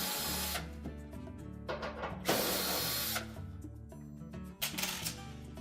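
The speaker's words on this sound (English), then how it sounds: "Remove 3 screws across the bottom of that panel." A power drill backs screws out of the back panel of a Frigidaire oven range, short whirring bursts of the motor broken by pauses and clicks, close and fairly loud.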